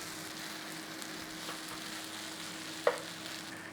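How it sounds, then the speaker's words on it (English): Onions stir-frying and caramelizing in a pan for an onion and goat cheese tart, a steady low sizzle with faint stirring and one brief sharp clack of utensil against the pan. "So just keep working at it until you get nicely caramelized or stir-fried onions with a bit of colour on."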